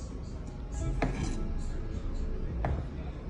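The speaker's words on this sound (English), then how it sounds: "So you cut them into pieces." A knife cuts banana peels into small slices on a board, soft muffled chopping with two sharper knocks against the board, fairly quiet and close, with no talking.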